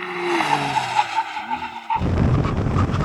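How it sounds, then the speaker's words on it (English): A McLaren Artura braking hard from 100 mph, its tires squealing in a sustained skid while the engine note drops, then a rough, broadband roar of tire scrub and road noise as the car slows to a stop. "Now I'm going to do a brake test from 100 miles an hour."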